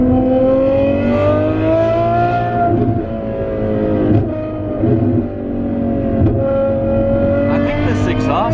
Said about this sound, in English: listen to these damn pops.